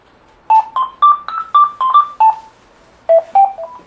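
A telephone rings in a home, heard as a run of sharp electronic tone bursts in an uneven pattern that pauses and then resumes, clear and alone with no talking.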